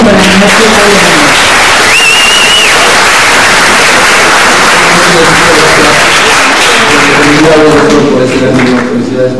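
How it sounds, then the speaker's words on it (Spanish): Audience applause at a book presentation on national accounts, a dense steady wash of clapping across the whole stretch, with a voice speaking over it at the start and again near the end. "Un aplauso,"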